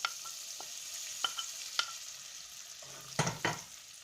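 Butter dropped into a hot pot on moderate heat, a soft sizzle under sharp metallic clinks and taps, then a louder rustling scrape near the end.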